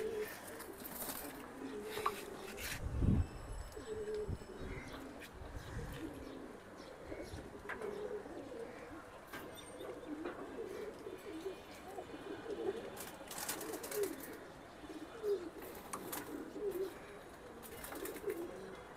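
Caged pigeons, including Giribaz breed, cooing in low, rolling bursts over a long stretch, with occasional rustling, wing flaps and scattered knocks nearby.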